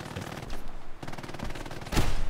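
Machine gun fire in the World War II shooter game Hell Let Loose: rapid bursts of shots with short gaps between them, the last burst loudest and closest.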